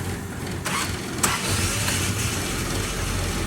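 A car engine in a garage turns over and catches, settling into a rough, steady idle with a couple of sharp cranking bursts early on; the running sound continues up close without talk.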